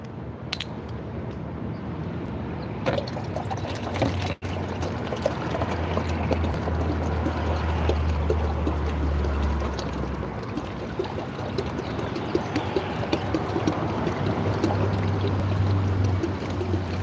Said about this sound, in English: I gotta put this water in my water bottle.